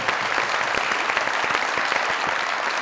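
A studio audience at a comedy talk show applauds steadily, dense overlapping claps filling the space without pause.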